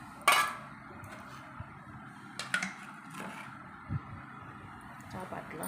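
Hot oil tempering is poured over lemon rice and stirred in. A spoon scrapes and clinks sharply against the pot at irregular moments, with a soft background hum and a voice talking quietly.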